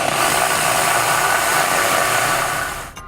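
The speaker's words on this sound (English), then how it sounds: "we'll be using a drill and a deburring bit" A power drill with a deburring bit whines steadily while enlarging a hole in the frame of a 2017 Ford Escape for a hitch install, one loud continuous run that spins down at the end.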